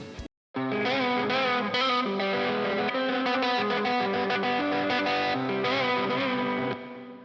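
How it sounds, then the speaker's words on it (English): An electric guitar plays chords and notes with a gritty, crunchy overdriven tone through an amp simulation plugin, steady and full throughout. "And then the final tone I used was a crunch tone."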